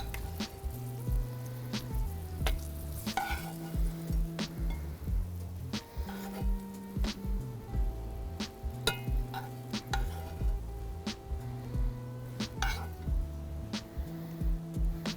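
Halloumi and sausage frying in a pan, a soft sizzle broken by repeated clacks and scrapes as pieces are laid down and moved, fairly quiet with no talk.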